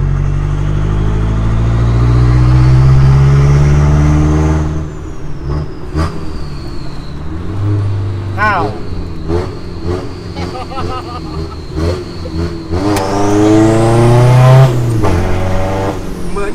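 Modified diesel car accelerating hard through two or three gears, engine note rising, dropping at each shift and climbing again, loud and close with a turbo whistle on top, while someone talks over it.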